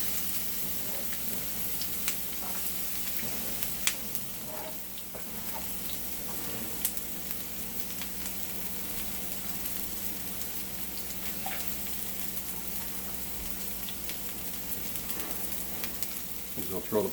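Onions fry in a pan with a soft, continuous sizzle and crackle, fairly quiet and close, with occasional light clicks of stirring.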